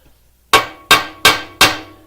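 Four crisp metallic taps from a small hammer built into a MIG welding pliers tool, evenly spaced and close, ringing briefly after each strike in an otherwise quiet workshop.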